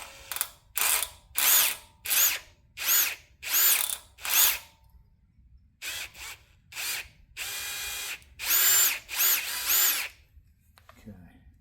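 A drill bit grinds through soft magnesium on a VW Type 1 engine in short, loud bursts, about a dozen quick pulses separated by brief pauses, close up with no talking.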